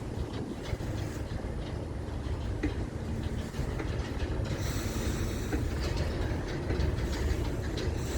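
A Florida East Coast Railway freight train rolls past a road crossing carrying container loads, with a steady rumble and rhythmic clickety-clack of wheels over rail joints, close and continuous.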